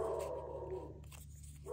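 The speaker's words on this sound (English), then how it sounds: "Oh, I hear a dog." A dog barks and whines faintly in the background, distant and muffled beneath a quiet indoor room hum.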